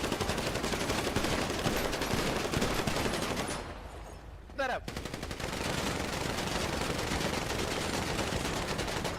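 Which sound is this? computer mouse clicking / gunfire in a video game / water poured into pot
gunfire in a video game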